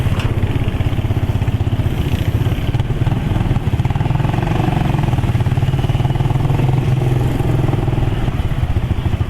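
An enduro motorcycle engine runs steadily nearby, a loud, even low-pitched rumble with a rapid pulsing beat and no speech throughout.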